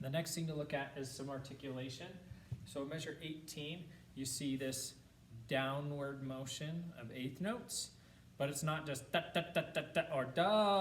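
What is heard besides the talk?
None of the usual background noises is heard.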